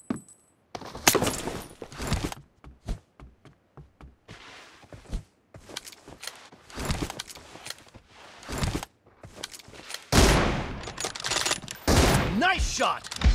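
Gunfire in a BGMI team deathmatch with an M24 sniper rifle, heard as a series of sharp, irregular bursts and shots at close range, some rapid and clustered, with louder blasts toward the end.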